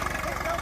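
A tractor engine roars under heavy load during a tractor tug-of-war, a loud, steady, throbbing rumble close by, with voices present.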